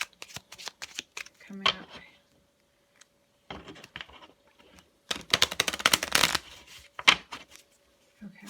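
Deck of playing cards shuffled by hand in several bursts of riffling and flicking, with pauses between, close and fairly loud, while a person speaks briefly.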